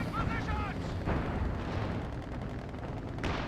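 Mortar and artillery booms in a video game rumble through a dense, steady battle din, with a couple of sharper bursts standing out, while a voice talks over the action.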